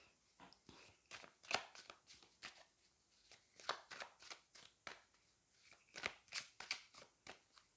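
Tarot cards are shuffled by hand, giving quick bursts of crisp riffling and slapping clicks in uneven clusters. The sound is close and fairly quiet, with no voices.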